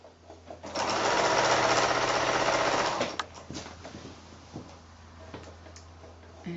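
A sewing machine runs fast and steady as it stitches down the last straight edge of a quilt's binding, a close, loud whir lasting about two seconds before it stops and gives way to quieter handling clicks.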